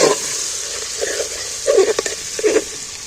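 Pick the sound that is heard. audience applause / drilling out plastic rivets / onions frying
onions frying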